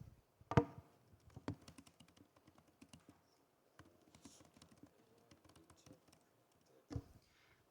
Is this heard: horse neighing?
no